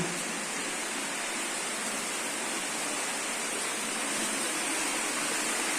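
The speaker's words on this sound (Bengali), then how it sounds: "উপরে থেকে কিন্তু অমন অনবরত পানি পড়তেছে" Water falls continuously from the ceiling inside Arwah Cave in Meghalaya, a loud steady rushing hiss that fills the space without pause, with no voices.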